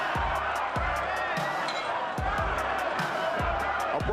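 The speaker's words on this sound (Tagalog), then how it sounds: "Crowd getting excited here." Dense, steady roar of an excited arena crowd at a boxing match between Rev Santillan and Suk Hyun Yoon, with cheering swelling over a continuous babble and repeated dull thuds punctuating the noise.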